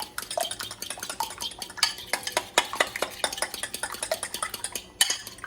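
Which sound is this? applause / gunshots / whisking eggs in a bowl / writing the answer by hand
whisking eggs in a bowl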